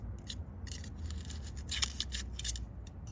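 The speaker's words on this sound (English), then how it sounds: "I'm gonna just kind of cut it away from the edge of the pot." Scissors or a blade cut through the roots of a root-bound plant along the edge of its pot, giving a series of short crisp snips and scrapes in uneven bursts, close up and fairly quiet.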